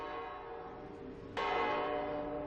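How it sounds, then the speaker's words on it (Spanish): Town hall clock bells in Astorga ring out over the square, a sustained metallic tone that swells suddenly louder partway through and keeps ringing, heard at a distance. "Las campanas del famoso reloj del ayuntamiento nos reciben en Astorga"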